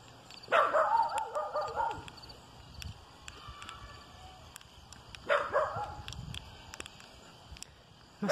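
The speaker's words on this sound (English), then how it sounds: "Must be the neighbor's puppy." A small puppy barks in two separate bursts of high, yappy barks, the first a short rapid series, the second a few seconds later, heard outdoors.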